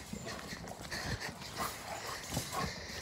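Rottweiler dogs make faint, soft whimpering and snuffling sounds in short scattered bursts at a low, distant level.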